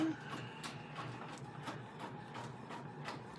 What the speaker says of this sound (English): what is that noise? Oh, it's the printer.